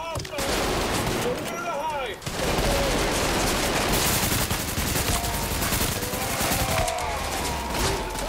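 Rapid gunfire from two guns in the video game Trepang 2, sustained bursts filling the whole stretch at high, steady loudness with game effects mixed in.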